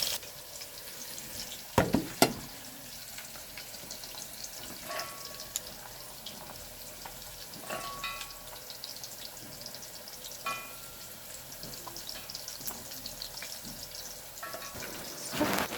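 Onion, green chilli and tomato fry in a pan with a low, steady sizzle, broken by a few sharp clatters and knocks of utensils near the start and end.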